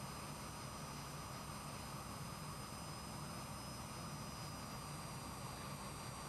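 Aermacchi MB-339 jet in Microsoft Flight Simulator flying over Sydney at sunrise, a quiet steady engine hiss and rumble from cockpit, constant without change.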